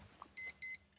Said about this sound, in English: Some make bleeping noises like this.